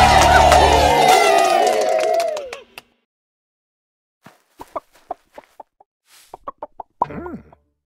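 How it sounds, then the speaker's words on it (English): A cartoon hen in a children's phonics lesson lets out a scattered run of short, bright clucks after a loud musical sting fades away. "The hen laid 3 very colorful eggs."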